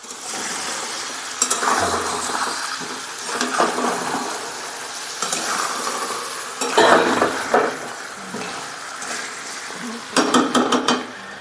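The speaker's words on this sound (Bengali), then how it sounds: "এবার কিন্তু মাংসটা একটুখানি নাড়িয়ে দেবো যাতে আদা রসুনটা মাংসের মধ্যে ভালোভাবে মিশে যায়" Chicken pieces coated in ginger-garlic paste are stirred and fried in a pan, bursts of sizzling and clattering spatula scrapes come in uneven groups with quieter gaps between, close by and without talking.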